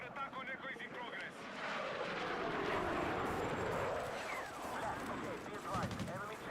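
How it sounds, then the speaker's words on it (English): An enemy jet roars overhead in the Battlefield 6 video game, a loud sweeping rush that swells and fades, mixed with gunfire and battle noise while voices shout and talk throughout. "Enemy jet operating in your area."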